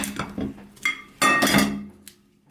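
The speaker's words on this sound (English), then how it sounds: "Let's cut this bowl." A Chinese snack bowl being cut open, heard as close, sharp clinks and clatters of packaging and utensils in short bursts, the loudest a half-second rattle near the middle, then quiet.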